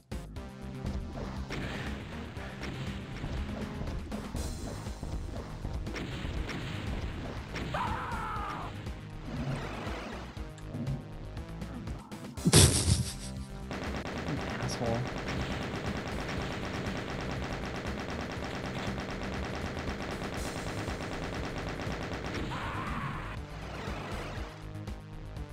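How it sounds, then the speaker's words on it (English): Rapid gunfire and rocket blasts from the classic first-person shooter DOOM, a dense, continuous barrage with one loud crashing burst around the middle, running steadily throughout. "The imps are shooting at him now"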